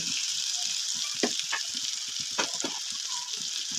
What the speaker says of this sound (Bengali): বেগুনের সঙ্গে ভাজা করে নিতে পারি এর ফাঁকে ফাঁকে কিছু রসুনের কোয়াও আমি দিয়ে দিচ্ছি